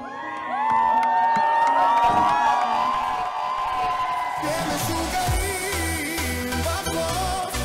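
A crowd at a big Jewish wedding in Israel cheers, whoops and yells as the bride and groom are carried on the guests' hands toward the reception hall, loud and sustained throughout with excited shouting voices.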